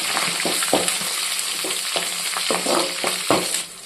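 Onion, garlic, curry leaves and drumstick leaves sautéing in oil for a koi fish curry, a close, continuous sizzle broken by repeated scraping clicks of stirring.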